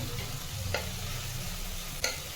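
Flat beans being stirred in a pan after their water has cooked off, with a soft continuous sizzle and two sharp scraping strokes as the middle is pushed clear.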